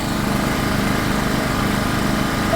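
A small 850W inverter generator hums at a steady, even pitch with a faint rattle, running continuously and close by.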